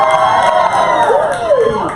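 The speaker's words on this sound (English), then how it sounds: "I don't know why they're cheering." A crowd at a drag race viewing party cheers and whoops loudly, a dense burst of shouting voices filling the room for a couple of seconds.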